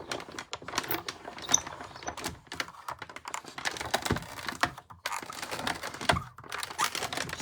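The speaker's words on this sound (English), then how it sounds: "Put the specialty plate on top because it's a 3D embossing folder, and run it through." A paper embossing machine cranks cardstock through a 3D embossing folder with a specialty plate, giving a close, continuous ratcheting clatter of rapid clicks and crunches with a short pause partway through.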